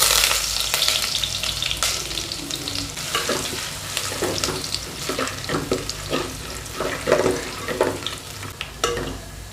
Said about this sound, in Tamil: இப்போ எண்ணெய் ஹீட் ஆனதுக்கப்புறமா பூண்டு சேர்த்துடலாம்.